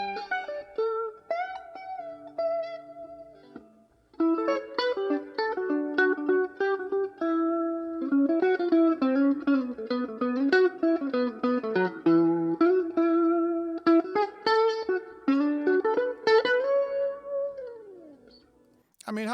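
Isolated lead electric guitar from a recording plays alone, a fluid, melodic solo of sustained and bending notes that pauses briefly early on, then runs continuously and loudly to the end.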